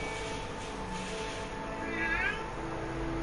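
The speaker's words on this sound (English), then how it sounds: "I hear a cat meowing." A cat in the South Park video game lets out a single short meow about two-thirds of the way through, faint and brief over a low, steady game-music backdrop.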